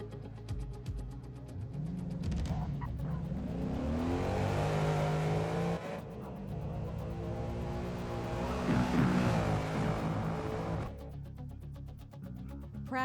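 Race car in the video game Forza leaving the pits onto a foggy track, its engine revving and whining continuously, climbing and dropping through gear changes, loud and close, with no talking.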